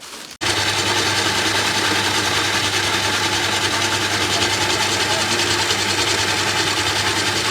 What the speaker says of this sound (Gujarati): તો ચક્કી ચાલુ કરી નાખી